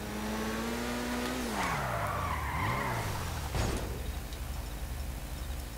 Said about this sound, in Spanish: El auto sale volando y cae parado.